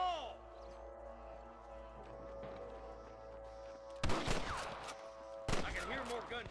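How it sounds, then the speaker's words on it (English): Two sharp bursts of gunfire in the video game Red Dead Redemption ring out over a steady hum and low rumble, loud and close, the second shot following about a second and a half after the first. "I can hear more gunshots."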